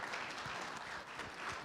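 Audience applause at a health summit, a steady patter of many hands clapping that sounds faint and distant, with no voices standing out.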